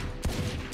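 A single Sheriff pistol shot in the Valorant shooter game, one sharp report near the start, with a second beginning right at the end, loud and close.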